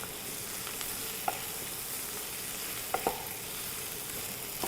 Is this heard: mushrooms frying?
yes